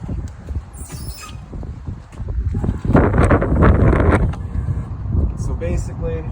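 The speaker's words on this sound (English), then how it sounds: "we're pretty windy today" Strong gusty wind buffets the microphone outdoors beside a 2013 KZ Spree camper, rumbling in low roaring bursts that rise and fall, with a voice speaking intermittently.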